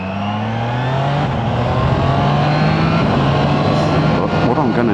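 Triumph Trident 660 motorcycle engine in sport mode on a hot day, a steady loud drone with rising revs and wind rush throughout, the engine note climbing in pitch as the bike accelerates.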